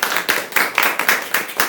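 A small group clapping in a series of quick, even bursts, close and fairly loud, outdoors at Green's Windmill during a University of Nottingham culture walk.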